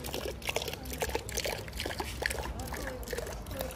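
Cold mineral spring water pouring from a tap at the Karlovy Vary spa colonnade in the Czech Republic, a steady close trickle and splash with a busy crowd murmuring behind it.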